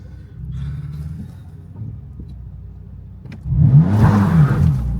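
A BMW M4 engine cranking and trying to start, a low whirring starter turnover that rises into a louder rumbling burst near the end, close and alone without talk.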